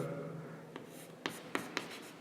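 Marker or chalk strokes on a classroom board during a C programming lesson, with a few sharp taps and scratches spaced irregularly, close and fairly quiet after a fading voice at the start.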